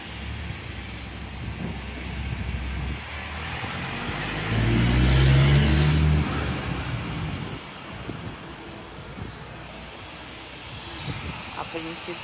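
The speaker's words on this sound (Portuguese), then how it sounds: "Olha lá, outro carro, ó, passando." A car passes along the street outside a home, its engine rumble swelling from faint to a clear peak near the middle and then fading away, with a quiet voice and some background noise around it.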